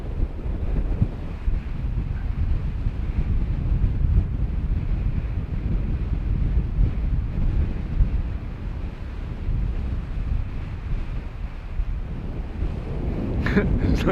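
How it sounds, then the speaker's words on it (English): Strong wind buffets the microphone on a hillside slope during an RC glider flight with a Volantex PhoenixS 742-7, a loud steady low roar that goes on without a break and nearly masks everything else. "There's less wind down there."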